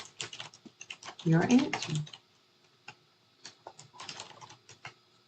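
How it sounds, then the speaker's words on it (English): Soft clicking keystrokes on a computer keyboard, a quick cluster of taps followed by sparse scattered presses, faint and close, with someone speaking briefly. "So you type in the number, then enter"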